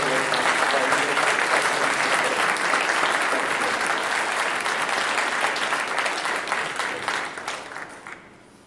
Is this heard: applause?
yes